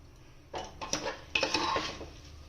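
Rice fries in a pot for pulao while a metal spoon stirs it, giving bursts of scraping and clinking against the pot. The strokes come close and fairly loud over a low background.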